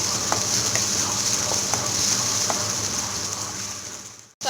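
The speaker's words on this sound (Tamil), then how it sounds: "அதையும் நல்லா பச்சை வாசனை போகிற வரைக்கும் வதக்கிக்கோங்க" Ginger garlic paste, onion and curry leaves sauté in a pan with a loud, dense sizzle and faint periodic stirring knocks, fading slightly before cutting off abruptly at the end.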